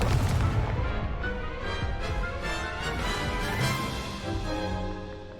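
Rapid fire-and-blast spell effects from Confringo and Incendio in Hogwarts Legacy, a dense run of booming bursts over game music and effects.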